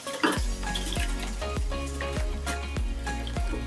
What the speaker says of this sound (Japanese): 卵はこれちょっと軽く溶いて、2つを合わせてください。